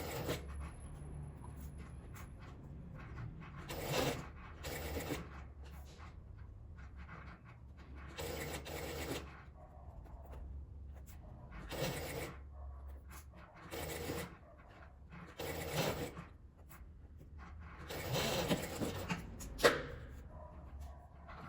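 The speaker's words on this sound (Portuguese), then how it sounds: "Agora eu vou passar uma costura na beiradinha, costurando ele todo" A sewing machine runs stitch by stitch along the edge of fabric for a small card purse, in short intermittent bursts of whirring with quiet pauses between, close and moderately loud.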